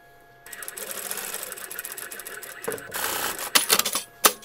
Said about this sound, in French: je vais coudre tout simplement ici